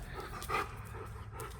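Matrix, a fluffy puppy, pants and makes soft breathy dog sounds close by, with a short louder burst near the middle against a quiet room.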